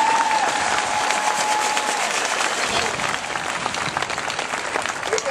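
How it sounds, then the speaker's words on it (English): A crowd at an outdoor schools funding rally gives sustained, steady applause for students from a high school band and chorus. The clapping is thick and even throughout, with a brief tonal whine early on. "Let's give all these students a round of"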